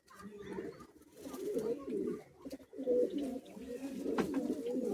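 Pigeons in a loft in Bagnan coo steadily and close by, overlapping low throaty calls filling the space with faint background stirrings.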